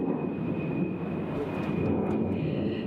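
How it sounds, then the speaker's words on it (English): Jet planes take off at a busy airport, a steady loud roar of aircraft engines filling the whole stretch with no break. "I can hear some of that nonsense behind you, those planes taking off."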